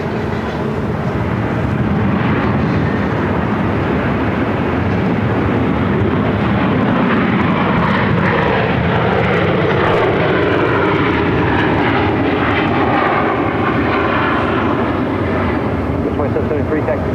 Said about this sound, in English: Southwest Flight 2773 coming in from Birmingham on a 737-700.